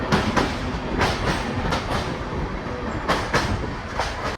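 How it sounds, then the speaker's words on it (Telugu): The Vikramasimhapuri Amaravati Intercity Express rolls across the Penna river bridge at Nellore, wheels clacking in loud rhythmic bursts over a steady roaring rumble, heard from on board. "ఇప్పుడే మన ట్రైన్ అయితే నెల్లూరు పెన్నా నది బ్రిడ్జి మీదకైతే ఎంటర్ అయిపోయింది"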